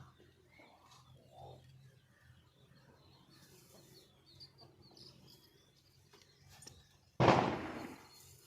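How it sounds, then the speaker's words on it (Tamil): Quiet outdoor ambience with faint chirps, then one sharp, loud firecracker bang near the end, with a crackling tail. "வெடியெல்லாம் போடுறாங்க."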